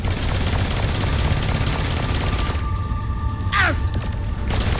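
Rapid SMG fire in the Saints Row IV video game, a loud continuous rattling burst that dominates the scene and drops away briefly near the end amid game effects.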